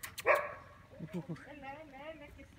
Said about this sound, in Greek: Αυτό ο σκύλο είναι φιλόξενο